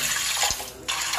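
Water pours from a glass into a pan of fried rice for pulao, a loud, close splashing gush with a brief pause before it starts again.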